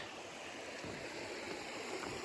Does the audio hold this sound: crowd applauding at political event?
no